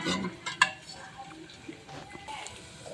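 Dal is poured into a hot tempering of cumin, onion and garlic, giving a brief splash and stir over a faint sizzle, with soft speech partly underneath.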